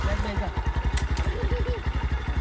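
A motorcycle engine running and pulsing steadily close by, a rough rhythmic chug that continues throughout under people talking.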